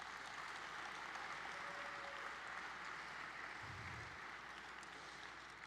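Sustained applause from a conference session audience for panel members, steady and fairly faint throughout, a broad even wash of clapping with a brief low thump partway through.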